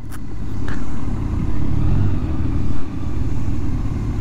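Honda Goldwing 1833cc motorcycle rolling through stop-and-go city traffic gives a steady low engine rumble mixed with road and wind noise, with a brief swell of surrounding traffic, heard from the rider's position.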